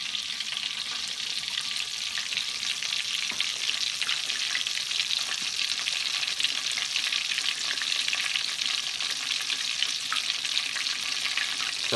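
Chicken fried steak frying in vegetable oil on medium heat, a dense, even hiss of bubbling oil that holds steady throughout, close and moderately loud, with no speech.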